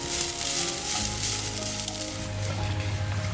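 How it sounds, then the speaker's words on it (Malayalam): Grated coconut roasts toward brown in a hot pan for an Onam sadya koottu curry, giving a loud, continuous crackling sizzle with scraping from constant stirring, close up and without speech. "കരിയാതെ നന്നായി ഇളക്കി നമ്മൾ ഇളക്കിക്കൊണ്ട് നിന്ന് തന്നെ വറുത്തെടുക്കണം"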